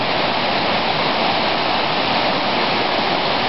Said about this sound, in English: I stumbled across these waterfalls while I'm looking for the stone arch bridges